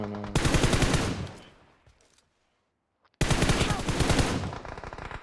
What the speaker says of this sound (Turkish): Smoke içi taradılar adam ya.